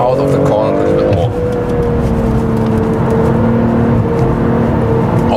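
A BMW M340i xDrive corners on a racetrack, its engine holding a steady, droning note with faint tire noise, heard from inside the car under a voice.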